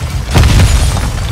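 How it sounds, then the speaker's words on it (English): A grenade explodes in a video game shooter: one loud, close boom with a rumbling tail that fades out over about a second. "He's throwing grenade!"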